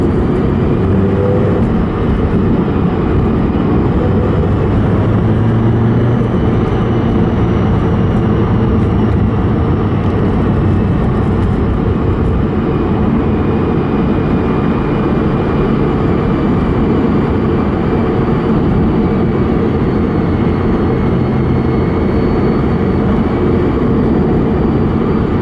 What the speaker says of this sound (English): Love the induction sound too.